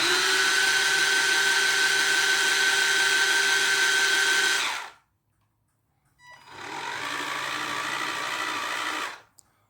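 The electric motor of a Barbie Jeep hums steadily with a whirring tone, runs for several seconds, stops, then after a short pause runs again in reverse at a slightly lower pitch and level before cutting off.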